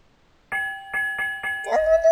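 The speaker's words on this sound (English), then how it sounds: "It was a ship's bell." A ship's bell in the Broken Sword 2: The Smoking Mirror video game strikes four quick, clear metallic rings in a steady rhythm, followed by a sustained ringing tone that fades slowly.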